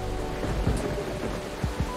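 Stormy weather in Coffee Talk Episode 2, a steady hiss of heavy rain with low rumbling thunder pulses underneath, close and continuous, no voices.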